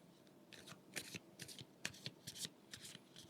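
A deck of guidance cards shuffled by hand, a run of quick riffling flutters and soft slaps in irregular bursts, close and fairly quiet.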